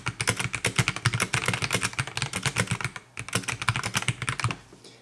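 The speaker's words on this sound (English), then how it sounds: "The typing experience has been great, especially with this, PC or OEM keycap profile." Close, rapid typing on an Epomaker MC66 black mechanical keyboard with PC/OEM-profile keycaps makes a dense, continuous clatter of soft keystrokes, with only a brief break near the middle.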